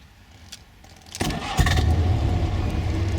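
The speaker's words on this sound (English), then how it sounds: "That's how quiet it is. It's really nice, quiet engine." A 1953 Jowett Javelin classic car engine cranks and catches after a few light clicks, then settles into a steady, quiet, low idle heard close by.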